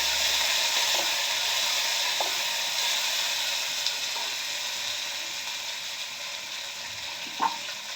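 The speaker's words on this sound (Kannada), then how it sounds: "ಈಗ ಹೆಚ್ಚಿಟ್ಕೊಂಡಿರುವಂಥ ಈರುಳ್ಳಿ, ಸ್ವಲ್ಪ ಫ್ರೈ ಆಗಬೇಕು." Chopped onions fry in a cooker with a steady, close, dense sizzle and hiss, marked by a few faint clinks of stirring.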